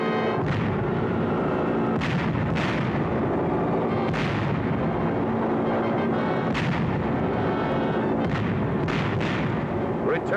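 Bombs bursting during an aerial bombing raid over Messina, Sicily: a rapid series of loud, heavy blasts and booms roughly every second or two over a constant dense rumble, with no voices.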